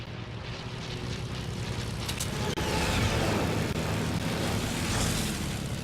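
A propeller airplane drones steadily in a combat video game, a loud continuous roar with a brief sharp crack midway and no talking.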